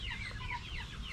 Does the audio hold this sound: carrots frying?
no